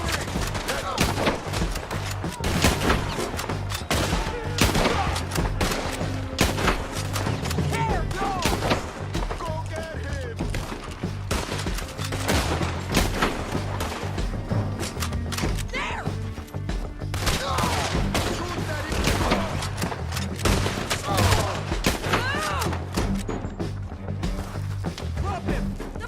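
Dense, continuous gunfire and artillery blasts from the Red Dead Redemption 2 video game, rapid loud shots layered over each other without pause, with shouted voices mixed in.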